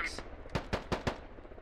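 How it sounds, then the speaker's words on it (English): Gunfire in the tactical shooter Squad, a quick burst of about four to five sharp shots in succession, fairly distant and moderately loud. "Root's returning some fire."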